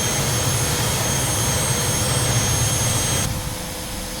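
A Eurofighter's jet engine runs while taxiing in Microsoft Flight Simulator 2024, a loud, steady roar with a high whine that dips slightly near the end.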